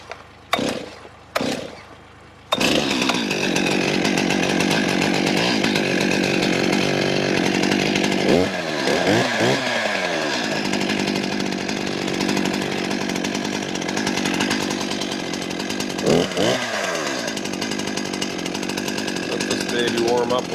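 A Stihl MS261CM chainsaw cutting through a red maple log roars loud and close, holding steady at high revs with a few brief dips as the chain bites, after some short knocks and handling noises at the start.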